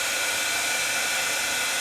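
A heat embossing tool blows hot air in a steady, close, even hiss with no pauses, like a small hair dryer running continuously.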